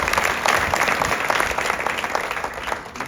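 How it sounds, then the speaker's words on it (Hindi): Dense, steady clapping from an audience at a Rajasthan police academy gathering, loud and continuous for a few seconds with no voices on top. "भाई के लिए एक बार जोरदार तालियां"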